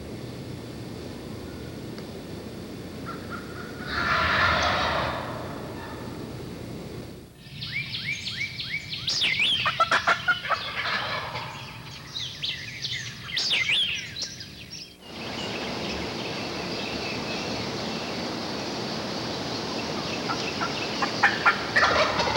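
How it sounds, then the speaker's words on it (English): Rio Grande wild turkey gobbling during spring hunting season, several loud rattling gobbles in a cluster at moderate distance, with other bird calls and outdoor ambience around them. "Rio Grande gobblers don't sound like eastern gobblers."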